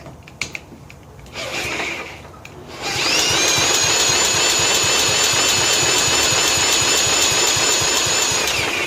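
A 1995 John Deere STX38 lawn tractor engine sputters briefly, then catches and runs poorly, loud and steady with a rough, uneven rumble and a high whine, close to the listener.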